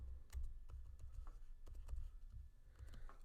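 Close, quick clicking of typing on a computer keyboard while entering a spreadsheet formula, irregular bursts of keystrokes with no talking.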